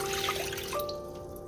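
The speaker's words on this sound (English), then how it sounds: "so I'm gonna add 2 bowls of water" Water trickles and pours into a bowl of rice flour mixed with baking soda, a soft brief splashing stream with faint tonal ringing, heard close and alone.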